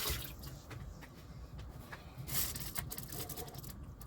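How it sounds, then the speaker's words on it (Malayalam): Water is poured into a brinjal theyal curry in a kitchen pot, a quiet continuous trickle and splash with a few soft drips, close by and without talk. "നല്ലപോലെ വെള്ളം ഒഴിച്ചിട്ട്, അത്യാവശ്യം ഒത്തിരി വെള്ളം ഒഴിക്കരുത്, ഒരു ആവശ്യത്തിന് വെള്ളം ഒഴിക്കുക"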